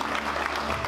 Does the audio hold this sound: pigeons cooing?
no